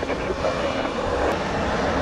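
Jet airliner engines powering up for takeoff at Montego Bay airport in Jamaica: a loud, steady broadband roar that holds without break for the whole stretch.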